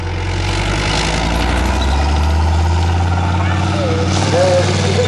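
A military vehicle engine rumbles steadily and loudly at a mock tank battle display at the Tank Museum in Bovington, Dorset, a continuous deep drone under a commentator's voice.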